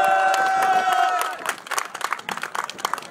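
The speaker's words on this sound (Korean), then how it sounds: "여러분, 박수 부탁드릴게요" Crowd at a Korean high school sports day K-pop fan event breaks into scattered clapping and cheers after a sustained musical tone fades, the applause patchy and irregular rather than a full ovation.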